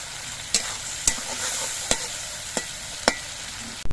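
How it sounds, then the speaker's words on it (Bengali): Spices fry with small chopped tomato pieces in a pan, crackling in a bright constant hiss as a utensil scrapes and knocks against the pan every half second or so, close up with no talking. "এবার মশলাগুলো অল্প একটু সময় কষিয়ে নিতে হবে আর এই মশলাগুলো কষানোর সময় আমি দিয়ে দিচ্ছি ছোটো পিস করে কেটে নেওয়া টমেটো"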